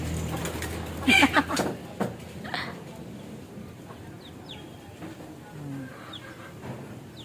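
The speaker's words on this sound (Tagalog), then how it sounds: "Bubugaw pa ng manok." A brief burst of chicken clucking rises out of a steady outdoor ambience, with faint bird chirps scattered through the rest.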